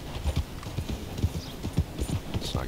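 Hooves of a saddled chestnut Arabian horse in a video game clop in a quick, steady rhythm close by, several hoofbeats per second with a faint whinny-like tone behind them.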